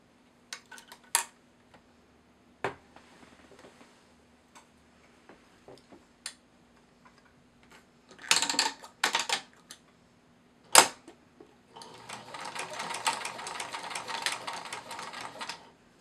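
A sewing machine runs a seam across plush otter fabric pieces with a quarter-inch allowance and backstitching, heard as faint scattered ticks and short bursts, then a steady stretch of stitching near the end, with no talk.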